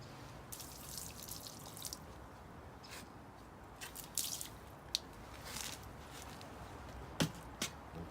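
A FibreFix repair wrap soaked in water for a carbon fibre water-fed pole, giving faint, scattered drips and small wet squishes against a quiet background.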